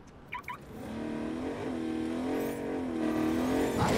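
A requested car in the video game Agents of Mayhem revs its engine, a steady droning roar that climbs and wavers in pitch for several seconds after a couple of short clicks, loud and continuous with no talking.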